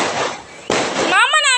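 Diwali firecrackers burst loudly in two sharp, crackling blasts close by, each followed by a rough hiss. A voice speaks right after the second burst.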